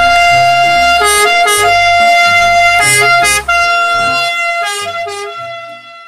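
A toy ambulance blares a loud electronic siren mixed with horn blasts, a looping warbling pattern of rising and falling tones that continues without a break, then slowly fades toward the end.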